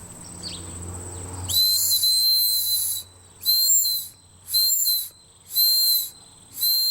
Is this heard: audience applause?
no